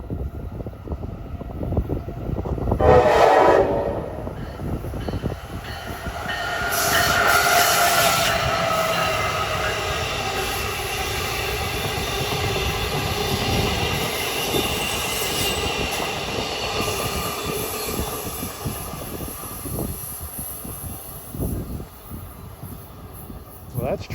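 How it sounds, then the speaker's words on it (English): The Silver Star, a New York-bound long-distance passenger train on a Philadelphia line, gives a loud horn blast and then rumbles past with rolling, clattering wheels and faint squeals. "Here comes a New York bound long distance train."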